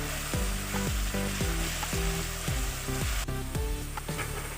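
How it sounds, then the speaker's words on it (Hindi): Masala with amchur powder is stirred in a frying pan over a steady sizzle. Regular scraping strokes repeat about twice a second, close and fairly loud, with no talking. "अब हमने इसमें आमचूर का पाउडर डाल दिया, थोड़ा सा हाफ टी स्पून हमने दिया था, और हम इसको हिलाएंगे"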